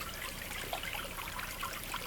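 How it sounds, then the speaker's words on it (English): Mountain creek water runs and trickles continuously over stones, a steady close burble with small splashes and no voices. "there's no shortage of running water here."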